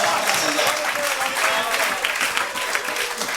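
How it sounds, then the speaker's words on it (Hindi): Steady applause from an audience at a Hindi poetry gathering marking an anniversary at the Delhi Assembly, dense and continuous throughout with a faint voice briefly underneath. "तालियां थोड़ी बजाइए"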